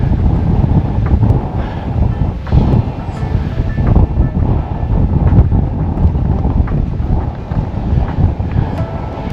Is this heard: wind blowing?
yes